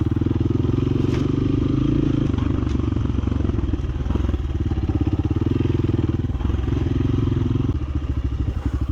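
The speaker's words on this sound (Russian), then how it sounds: "Не очень приятно на Альфе ехать по таким дорогам, трясет изрядно." An Alpha moped rides over a rough, bumpy country road, its small engine droning loudly and continuously up close while the bike rattles and clatters over the bumps.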